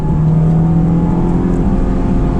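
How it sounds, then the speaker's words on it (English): A loud Honda S2000 sports car engine hums steadily from inside the cabin, a constant low drone with no clear rise or fall. "So when I hit the gas, what it does is immediate reaction because it's actually connected to the engine."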